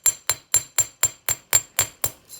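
A hammer strikes a copper wire bracelet in a steady rhythm, ten sharp close metallic taps about a quarter second apart, loud and clear with no talk.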